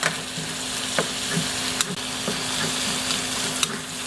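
Garlic fries in a pan for chicken adobo, giving a steady, moderately quiet sizzle with occasional soft clicks from stirring.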